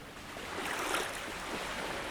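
Ocean surf washes steadily around floating wreckage on open water, a continuous broad hiss of waves with a soft swell near the middle.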